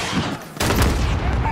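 A sudden burst of gunfire erupts partway through, following a quieter stretch, during an embassy breach mission in Call of Duty: Modern Warfare. The shots continue as a dense, noisy volley.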